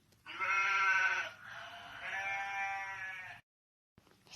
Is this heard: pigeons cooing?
no